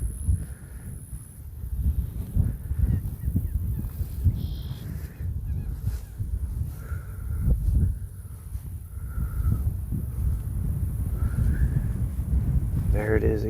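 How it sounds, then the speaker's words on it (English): Honking duck-like bird calls repeat at intervals over strong wind rumble at the Stick Marsh, with a person talking faintly at times. "There's another bird. It's like a little duck. A weird, noisy little duck."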